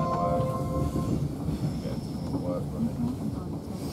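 An Avanti West Coast Class 390 train pulls into London Euston, a steady rumbling roll with faint squeals and wind buffeting, loud and close throughout.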